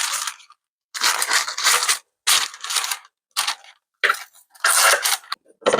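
Scissors snipping the corners of a sheet of baking paper while lining a tray: a series of close, crisp cutting and crinkling bursts, about six of them in uneven rhythm with short silent gaps, heard alone without talk.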